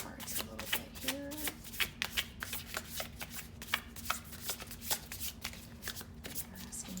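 Tarot cards are shuffled by hand close up, with a steady run of soft riffling slaps and flicks in an uneven rhythm and no talking.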